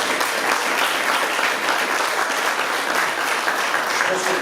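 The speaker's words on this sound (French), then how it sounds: "vous l'applaudissez" An audience at a local officials' event on apprenticeship breaks into steady, dense applause, a continuous wash of many hands clapping at even loudness throughout.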